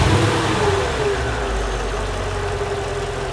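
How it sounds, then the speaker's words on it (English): Mercedes CL55 AMG V8 running at a deep, steady idle with a slight dip in revs, the rumble close and continuous, no voices. "The sound of that V8 is unbelievable"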